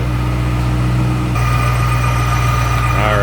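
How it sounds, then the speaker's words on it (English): A supercharged 2005 Ford Mustang Saleen S281 convertible idles with its hood open, a loud, steady low rumble with a faint supercharger whine above it throughout. "Hear a little whine out of that supercharger"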